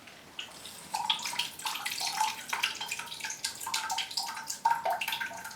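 Water drains from a freshly watered Cymbidium orchid pot, splashing and trickling in uneven bursts for several seconds, close and fairly quiet.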